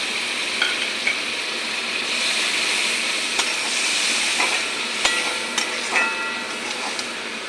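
Water poured into frying masala in a pan for a koi fish curry with ripe tomatoes sets off a loud, steady hiss of sizzling, broken by scattered clicks and clatters of stirring, with no talk.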